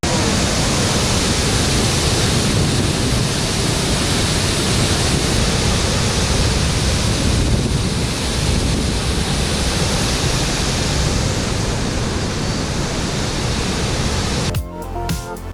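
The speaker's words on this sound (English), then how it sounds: "Within the 128-acre park, there are cascading waterfalls" Cascading waterfalls at Palisades State Park in South Dakota give a loud, steady broadband roar of rushing water, continuous and close, with a brief disturbance at the very end.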